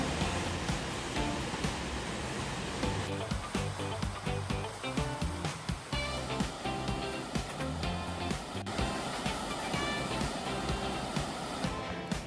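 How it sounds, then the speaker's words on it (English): Constant roaring rush of Eagle Creek Falls in Oregon, broad and unbroken, with a faint voice or two barely surfacing beneath it. "there's the waterfall."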